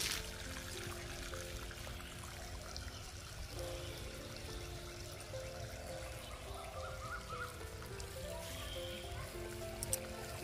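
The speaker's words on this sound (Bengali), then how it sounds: "তাই যে গাছগুলোতে জল লাগাচ্ছে, লঙ্কার গাছগুলোতে" Water poured onto chili plants in a garden gives a steady, continuous trickling stream, close and moderately loud, with faint birds and ambient outdoor noise behind it.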